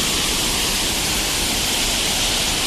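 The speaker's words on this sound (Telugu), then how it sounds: "సో ఇది వాటర్ ఫాల్స్, గండహతి వాటర్ ఫాల్స్" Gandahathi waterfall in Odisha during the rainy season roars as a loud, steady wash of falling water that fills the whole scene without pause.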